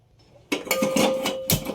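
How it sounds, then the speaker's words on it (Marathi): After a quiet start, a metal cooking pot is set down on a gas stove with a sharp clank. A faint metallic ring lingers, then a second knock follows. "एक पातेलं घेतलं, गॅसवर ठेवलं"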